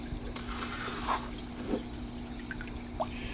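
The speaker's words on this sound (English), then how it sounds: "just stick the whole thing in the water, sort of roll it over and lift it back out, and it just leaves the water behind" Bucket dipped into and lifted from brackish aquarium water, giving faint scattered drips and small splashes over a steady low hum.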